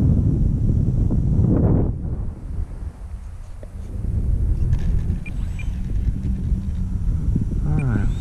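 Gusting wind buffets the microphone outdoors with a steady low rumble that dips briefly and then returns, while people talk nearby.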